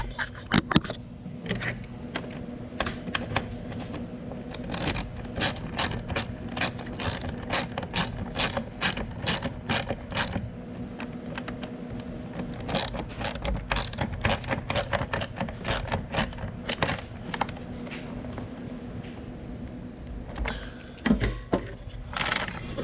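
A ratchet tightening a sensor on the 2.3-liter engine of a 2005 Ford Ranger, rapid metallic clicking strokes repeated in long steady runs with brief pauses, close and fairly loud, with no talk.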